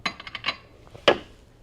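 Small dishes handled and set into a storage chest at home, a quick run of light clinks and taps followed by one louder sharp clatter, close by with no talking.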